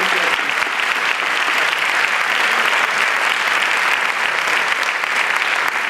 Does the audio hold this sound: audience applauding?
yes